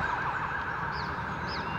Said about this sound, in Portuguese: Tá passando aqui, não sei se é uma ambulância, né?